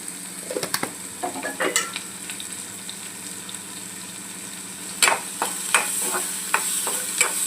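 Onion frying and being stirred in a pan for kanda poha, a breakfast dish, with soft sizzling under scattered scraping clicks of a spoon against the pan, louder bursts near the start and again toward the end.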